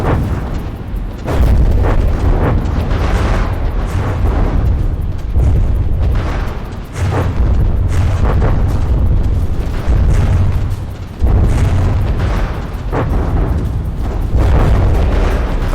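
Explosions from missile and gunfire hits in the From the Depths naval combat game: repeated heavy booms and rumbling blasts arriving in dense bursts, loud and continuous, with brief lulls between volleys.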